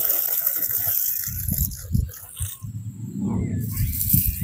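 Water is poured onto potted plants at a small hut garden, splashing and gushing in uneven surges that swell louder toward the end, close by.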